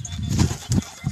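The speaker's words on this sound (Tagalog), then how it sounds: "Yan ba mga kalapati sa silo." Racing pigeons in a loft give soft, close coos and rustling wing sounds in short bursts.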